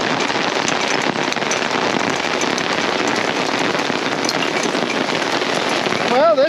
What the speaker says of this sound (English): we had a hailstorm.